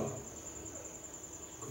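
A steady, high-pitched trilling frog call runs unbroken through the whole stretch, faint and distant over soft background hiss.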